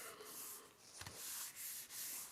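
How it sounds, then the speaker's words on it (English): Hands rubbing an adhesive paper piece into place on a 6x8 photo folio, a soft, faint scuffing with a few brief strokes, close and quiet. "Give it a good rub"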